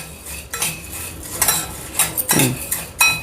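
Spices and rice for sambar masala dry-roast in a pan, with a spatula scraping and clinking against the metal in irregular close strokes and a brief soft sizzle, no voices.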